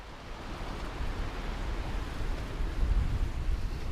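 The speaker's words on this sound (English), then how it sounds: "we're by the ocean." Ocean waves wash along the coast, a soft continuous surf hiss with a low rumbling swell that builds a little toward the end, heard alone.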